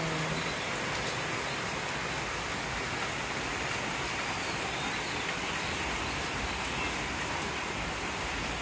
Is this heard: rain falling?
yes